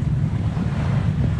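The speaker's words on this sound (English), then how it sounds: "Some big waves, but you know, some waves about that are probably churned up by the shipping" Waves and wind rushing past a sailing yacht under full sail, a loud, steady low roar of water and wind noise with no voices.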